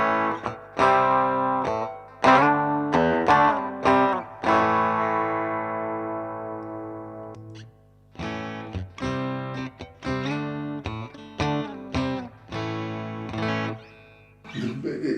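Electric guitar, a Strat, played through a Musikding Range treble booster pedal: bright, cutting chords and single notes in short strummed bursts with brief gaps, one chord ringing out and decaying, loud and up close with no talking.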